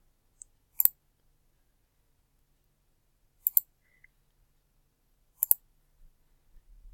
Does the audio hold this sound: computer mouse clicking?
yes